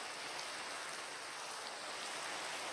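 Steady rain falling in Minecraft, a dense, even hiss of raindrops that holds without a break from start to finish, with no talk over it.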